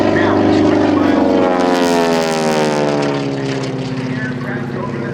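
A T-6 Texan propeller plane performs aerobatics at the 2012 Cleveland National Air Show. A loud, near, buzzing engine drone sweeps downward in pitch, then eases slightly as the aircraft moves away.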